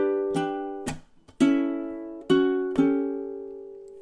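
Ukulele chord melody strummed and fingerpicked in steady time, a handful of bright chord attacks with ringing sustain, close and clear with no voices.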